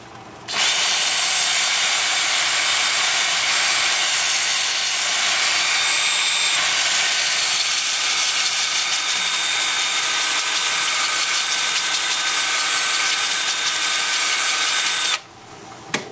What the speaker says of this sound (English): Lathe will be spinning forward at about 350.